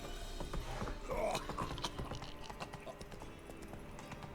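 Roach, Geralt's horse in The Witcher 3: Wild Hunt, clops along with sharp, irregular hoofbeats mixed with clunky mechanical clicks, fairly quiet and close, with a brief tonal game sound early on.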